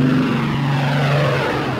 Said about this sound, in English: Every 45 seconds, airplanes from the west came over Kleinmachnow, over the High Party Academy, in order to land in Tempelhof.